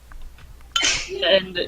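A single sharp sneeze bursts out abruptly, loud and close, followed by a brief trailing exhale against a quiet background.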